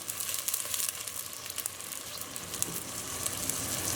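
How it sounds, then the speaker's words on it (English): Onions frying in a pan over medium heat give a steady, dense sizzle that stays loud and even throughout, with faint crackles and no voices. "we just want to fry that up on a medium heat until they've softened and slightly turned brown"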